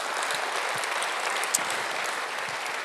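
A church congregation applauds during a Sunday worship service, dense continuous clapping from many hands filling the room at an even level for the whole stretch.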